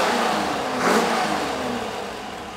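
A Rover 4.6 V8 engine runs close by, with one brief rise in revs before it settles back toward a smooth idle, and no one talking.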